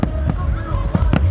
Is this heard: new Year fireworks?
yes